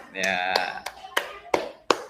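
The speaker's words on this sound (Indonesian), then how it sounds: "Untuk kalian yang presentasi, mari beri tepuk salut." A group claps in a short patterned rhythm of applause for presenters, several sharp claps in quick succession, close and loud, with voices chanting along at the start.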